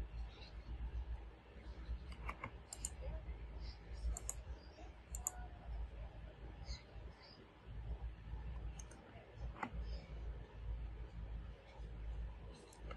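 A computer mouse clicks several times at irregular intervals in a quiet room, each click faint and sharp over a low background hum.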